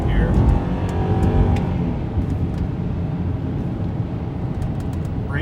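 Engine of a 2006 Range Rover HSE being revved, a loud, steady, throaty roar that swells early on, with faint talk mixed in underneath.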